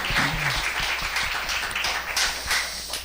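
A church congregation claps together in a steady burst of applause during a Korean Sunday worship service, with dense, even hand claps heard up close throughout.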